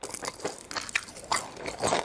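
Crunchy fried chicken is bitten and chewed up close, giving several crisp crunches and smacking chews in an uneven rhythm, with no talking.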